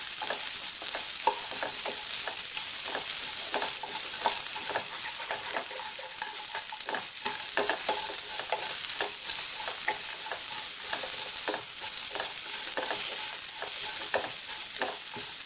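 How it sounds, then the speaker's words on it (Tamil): Onions frying in a pan for paneer tikka masala, a constant close sizzle broken by frequent scraping taps of a spoon stirring them, with no voice over it. "இது ரொம்ப ஃப்ரை ஆக வேண்டியது இல்லைங்க, கொஞ்சம் ஃப்ரை ஆனாலே போதும்"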